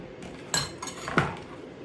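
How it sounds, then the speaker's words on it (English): A utensil scooping ripe avocado flesh out of its skin for homemade guacamole, a few soft scraping taps and light clinks close by, with no talk. "So I'm literally just scooping the lining out."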